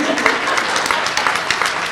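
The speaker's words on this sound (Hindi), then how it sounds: "मुझे इस बात पे मेरे लिए तालियां।" Applause from an audience at a community round-up in Mississauga, dense and steady clapping close to the listener with voices mixed in, continuous through the short stretch.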